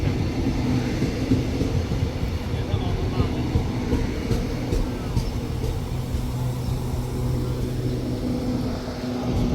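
An express train pulls into Ban Pong station in Thailand with a loud, continuous rumble of wheels and rolling stock, steady and close, while people talk faintly underneath.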